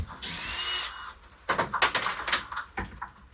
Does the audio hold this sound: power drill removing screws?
yes